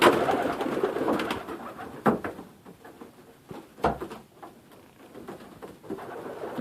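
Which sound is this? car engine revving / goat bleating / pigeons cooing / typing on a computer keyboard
pigeons cooing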